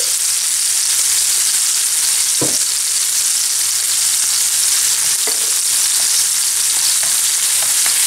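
Lardons and cream sizzling in a pan while stirred, a loud, constant crackling hiss broken by a few scraping clicks of the utensil.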